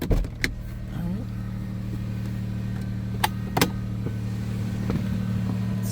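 A 2004 Toyota Highlander V6 idling after a cold start, a steady low engine hum heard close with a couple of brief clicks and knocks early on, no talk.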